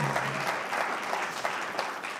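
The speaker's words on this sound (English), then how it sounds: "Round of applause for Harvest Moon Pies" A studio audience on a late-night talk show claps and cheers in a continuous, even wash of applause, fairly soft overall with no distinct speech above it.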